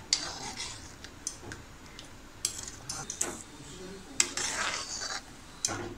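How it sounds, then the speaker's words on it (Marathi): A spoon scrapes and clinks against a kadhai as pithla, a Maharashtrian gram flour curry, is stirred steadily toward a boil, with irregular sharp taps and a low bubbling bed beneath. "आपल्याला ते उकळी येईपर्यंत असं सतत ढवळतच राहायचं आहे, नाहीतर ते कढईला खाली चिकटून राहील"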